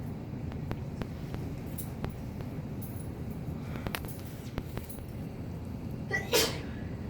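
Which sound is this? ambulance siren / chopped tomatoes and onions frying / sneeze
sneeze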